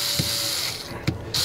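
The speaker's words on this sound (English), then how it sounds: "go ahead and screw the screws back in" Screws being driven back into a plastic housing by hand, giving a couple of brief, close mechanical clicks and ratcheting ticks over a quiet background hiss.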